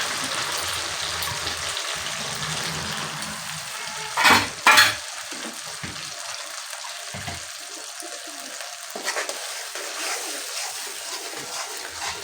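Poppy seed, mustard, chili and ginger paste frying with pabda fish in a pan, a close, continuous sizzle with a couple of sharp scraping stirs, then settling to a steady hiss; no voices.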